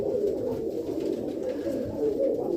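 Young pigeons in a loft coo in a low, steady murmur that runs throughout, with no talk over it.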